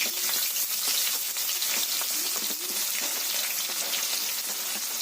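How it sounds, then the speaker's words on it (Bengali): Onions sizzle steadily in hot oil for birista, a dense, even crackle of frying that carries on without pause, close and moderately loud in a home kitchen as the base for chicken biryani. "তেল কিন্তু গরম হয়ে গেছে এবার এর মধ্যে পেঁয়াজগুলোকে দিয়ে দিতে হবে বেরেস্তা করার জন্য"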